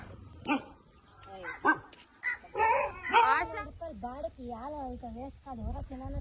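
A nearby dog on a farm gives a few sharp barks, then breaks into a run of whiny, wavering yelps and whimpers.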